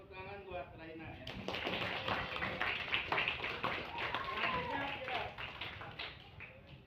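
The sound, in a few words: classroom applause for a student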